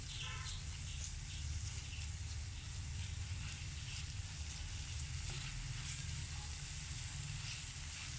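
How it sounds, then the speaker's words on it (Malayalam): Sliced onions sautéing in hot coconut oil for a Kerala-style chicken roast, a steady, dense sizzle and hiss that holds evenly close by throughout. "നമുക്കിനി ഇതിലേക്ക് അരിഞ്ഞു വെച്ചിരിക്കുന്ന സവാള ചേർത്ത് കൊടുക്കാം. നന്നായിട്ട് വഴറ്റി കൊടുക്കാം."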